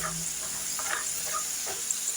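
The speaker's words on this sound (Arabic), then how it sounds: "درت النص ديال اللوز كيتقلى، غنخليه يتحمر شي شويه" Almonds fry in a pan, a steady close sizzle and crackle with faint scattered pops, heard alone without any voice.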